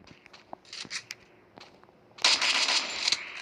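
Sharp gunshots in the video game Free Fire, a few scattered single cracks followed by a denser burst of rapid firing, moderately loud and close, with no talking.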